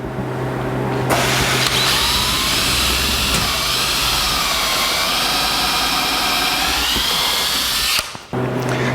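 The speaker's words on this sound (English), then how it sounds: "Now let's drill some pilot holes." A loud power drill whines steadily for several seconds while drilling pilot holes, its pitch wavering slightly, then cuts off abruptly near the end.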